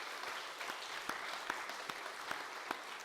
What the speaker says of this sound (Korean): 우리 박수 한번, 우리 모두가 한번 박수 한번 또 힘차게 한번 합시다.